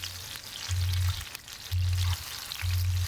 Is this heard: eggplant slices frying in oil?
yes